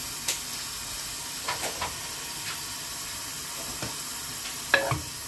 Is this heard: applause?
no